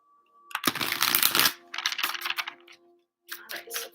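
Tarot cards being shuffled by hand make quick riffling bursts in three separate rounds, close and crisp, with short pauses between them.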